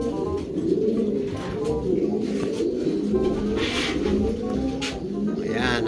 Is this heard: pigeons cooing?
yes